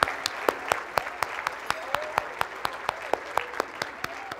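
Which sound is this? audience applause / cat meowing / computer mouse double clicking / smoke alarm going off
audience applause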